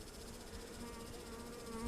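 Honeybees buzzing steadily and close by during a first spring inspection of a hive in New Hampshire, a dense continuous drone with one agitated bee whining louder near the end, no speech.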